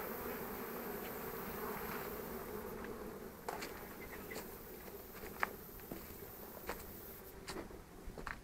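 Honey bees swarm and buzz around the hives of an apiary in a steady, dense drone, close and continuous, with occasional individual bees zipping past nearby.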